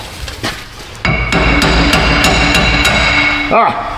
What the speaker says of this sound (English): Let's get a big hammer. And we'll bang on it until it pops out of the vise.